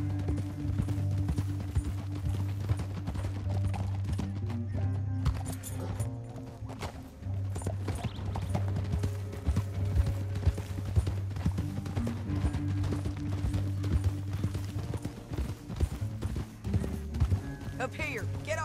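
Steady clip-clop of galloping horse hooves in Red Dead Redemption 2 runs throughout beneath a low musical drone, with occasional voices mixed in.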